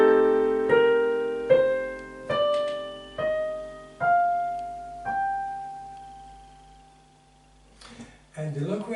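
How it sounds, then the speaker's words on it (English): Locrian scale played note by note on an instrument, six separate struck tones stepping upward, each ringing and fading, then a brief rustle at the end. "Now let's hear the Locrian scale."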